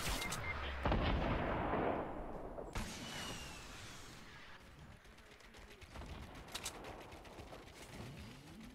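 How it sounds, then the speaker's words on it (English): Fortnite gameplay: a rocket launcher fires at an enemy hiding behind a tree, a loud booming blast followed by rumbling explosions and scattered gunfire echoing through the game world, with no speech. "He's behind the tree, I'm gonna shoot a rocket at it."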